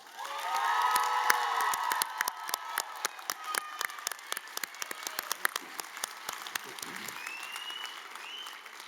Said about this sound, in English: let's give another round of applause to our graduates